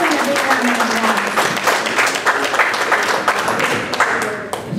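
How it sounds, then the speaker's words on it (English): An outdoor group at a community trail cleanup claps and cheers, a moderately loud burst of mixed hand claps with voices murmuring underneath. "Give them a big round of applause."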